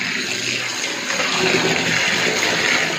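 Hot water gushing steadily from a household tap, a loud, close, continuous hiss and splash with no voices.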